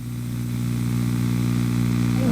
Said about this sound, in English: they come in here, keep their engines running